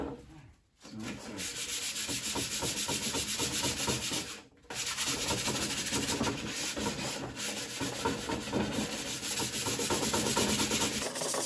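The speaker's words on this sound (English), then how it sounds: "So I'm going to scuff sand these real quick" Steady, continuous scratchy scuff sanding rubbed back and forth over painted furniture, close by, with two brief pauses.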